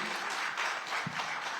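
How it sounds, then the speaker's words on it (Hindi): An audience claps for Congress leader Ajay Rai at the LT X-Change stage event: a faint, steady wash of many hands clapping with no voices over it. "तो जोरदार तालियां एक बार फिर से अजय राय जी के लिए।"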